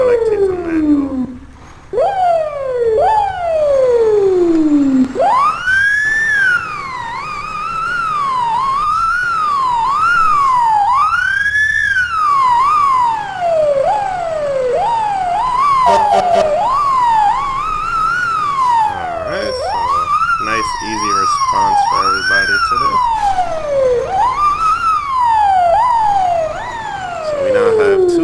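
Manual fire truck siren in the EmergeNYC game, a loud wailing tone that rises and falls in uneven sweeps, revved up and released by hand for nearly half a minute, with a brief spoken line over it.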